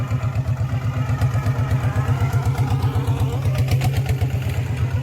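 A custom-built diesel farm tractor runs nearby with a loud, steady, rhythmic chugging idle that holds an even pulse throughout.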